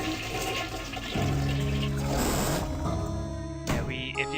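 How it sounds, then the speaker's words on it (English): A toilet flushing in the video game I Have No Mouth, and I Must Scream: a loud, close rush of water that surges, swirls and drains away, ending with a brief clunk and trickle. "We have to go and flush the toilet."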